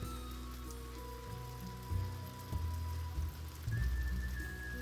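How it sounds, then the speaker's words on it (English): Steady rain patters over the landscape of the colony-building game Stonehearth, a soft continuous hiss under faint musical tones and a few low thumps of in-game activity, with no one talking. "It's also raining."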